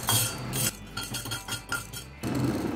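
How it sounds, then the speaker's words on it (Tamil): A ladle scrapes and clinks against a dry, oil-free kadai while fenugreek seeds roast, producing rapid repeated metallic scrapes and rattles up close, loud and busy; no speech. "வெந்தயம் போட்டு நல்லா வறுத்துக்கலாம்"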